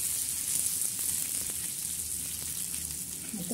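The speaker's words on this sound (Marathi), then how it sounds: "कांदा परतला जातो, छान असा लालसर" Onion fries in a pan until reddish, a steady, close hiss of sizzling that holds evenly for a few seconds.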